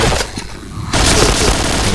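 Explosion and burst of gunfire in the Point Blank shooting game: a muffled lull, then a sudden loud boom with dense crackling shots continuing to the end.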